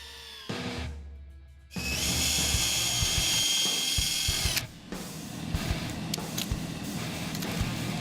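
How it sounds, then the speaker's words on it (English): A power drill and drive tool whirs up to a sustained high whine as it pre-drills and drives DeckWise hidden deck fasteners into hardwood decking, close and loud, then drops to a lower rumbling grind. "always going to reach for my drill and drive tool"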